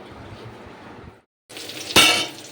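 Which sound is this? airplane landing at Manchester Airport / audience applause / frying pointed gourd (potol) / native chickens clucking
frying pointed gourd (potol)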